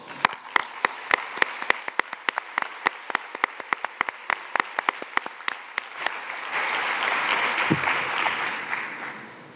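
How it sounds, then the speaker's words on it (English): Clapping at a UN NGO conference closing session for the planning committee, starting as sharp, rhythmic individual claps before merging into a denser, continuous wash of applause that fades out with a low thump near the end. "thanking all of those who served on the conference planning committee based around the world with a warm round of applause"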